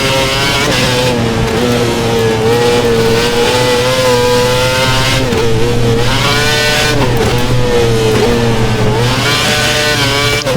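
Formula One race car engine from a 2011-season F1 video game at the Chinese Grand Prix, a loud, sustained high-pitched whine that rises and falls as the car shifts and struggles for grip, continuous throughout with no talk.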